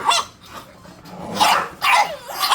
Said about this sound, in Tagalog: Mga tuta, oh.